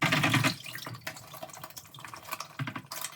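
Combs and brushes being rinsed under lukewarm running water, with splashing, drips and clicking plastic bristles close by in uneven bursts, and no speech.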